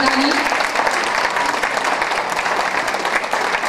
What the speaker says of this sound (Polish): Także wielkie brawa dla nich.